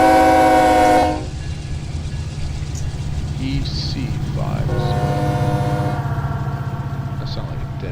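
A locomotive horn sounds in the Run 8 train simulator game, a loud stacked-tone blast for about a second before cutting off, followed by a steady low engine rumble with someone speaking briefly over it.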